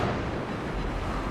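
Warship guns fire in a naval battle game, a dense, steady roar of heavy gunfire with no pauses, filling the whole short stretch.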